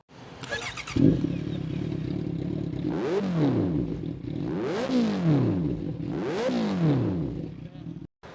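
A 2016 Honda CB650F motorcycle engine starts and idles, then revs three times in rising-and-falling sweeps, loud and close with a steady idle between blips.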